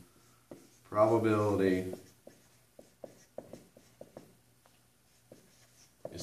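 Pen scratching a definition onto a note card in short, irregular strokes, close and quiet, following a brief spoken word.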